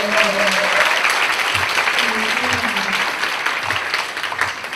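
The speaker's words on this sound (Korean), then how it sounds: "우리 기쁨의 박수로 하나님의 영광을 드려요." Congregation applauding together at the close of a Korean university-group worship service, loud sustained clapping from a large room with faint voices and a few lingering tones underneath, tapering slightly toward the end.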